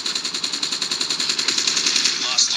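Rapid automatic gunfire from Call of Duty: Modern Warfare mobile rattles in a steady, evenly spaced stream of shots, fairly loud and continuous.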